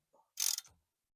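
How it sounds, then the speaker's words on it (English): A wrench gives a single short ratcheting click burst while tightening a bolt on a Boom Vader 125 motorcycle, a Honda Grom clone, close and quiet in an otherwise silent moment. "Then get your wrench on there. And just kind of cinch her up."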